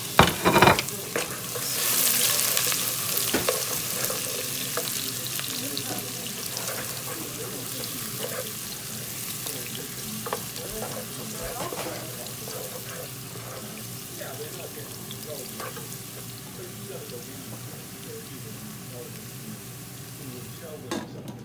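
Onions fry in a hot pot for a mixed vegetable dish, a steady close sizzle with an initial loud burst, then repeated stirring scrapes and light clinks throughout.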